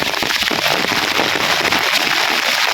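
Heavy rain pours down on a village home in a dense, loud, unbroken rush of drops with a crackling texture, steady throughout and with no voices.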